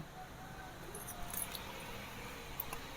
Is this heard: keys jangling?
yes